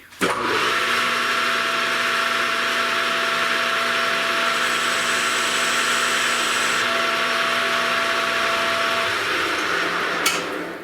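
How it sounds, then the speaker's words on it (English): A lathe tool bit cuts a metal oil cup base with a steady, loud, sustained machining whine and tonal hum that runs unbroken for about ten seconds, then stops abruptly. "I've got my tool bit. I'm just gonna put a mark on there exactly where I have to stop, and we'll start machining"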